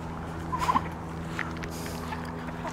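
Farmyard turkeys gobble briefly in a quick, faint warbling burst amid steady background noise, followed by a soft distant sound and then quiet.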